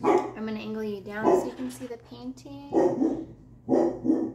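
A dog barks repeatedly in a room, a series of loud, tonal barks and yips that come in bursts while a person talks over them.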